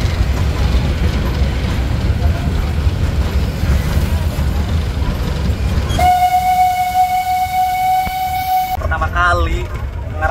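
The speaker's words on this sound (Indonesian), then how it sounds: "naik kereta di relnya tuh yang pinggir jalan kayak gini" The Jaladara steam tourist train rumbles loudly along rails running beside a city road, a steady clattering roar, then a long horn blast sounds before the noise drops.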